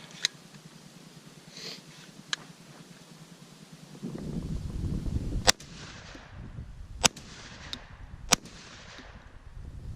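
A Beretta A300 Outlander shotgun fires Winchester Universal shells outdoors at a range, several sharp, loud reports spaced a second or so apart, each followed by a brief decaying echo over faint background noise.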